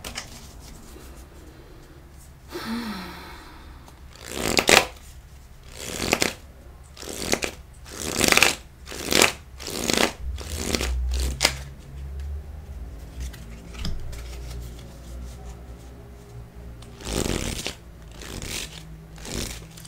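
Tarot cards are shuffled by hand in a steady run of crisp riffling and slapping bursts, close and fairly loud, with a short pause near the end before a couple more shuffles.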